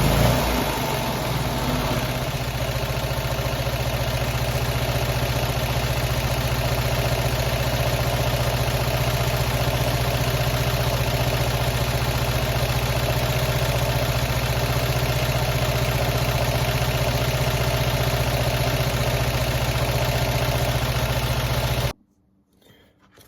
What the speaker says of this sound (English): adjusting the idle screw first, mixture screw coming back, and then we're just looking for a nice steady RPM